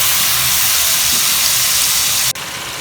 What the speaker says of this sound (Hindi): 4 से 5 मिनट के लिए अच्छे से मसाले को मीडियम फ्लेम पर भूनेंगे